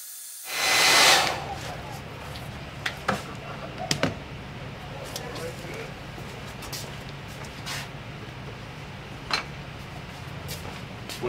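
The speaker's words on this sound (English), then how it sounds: "Now let me get my handy dryer" A handheld dryer blasts a short, loud, breathy whoosh for about a second while drying cement during western saddle building, then cuts off, leaving a quiet workshop with a few faint handling clicks.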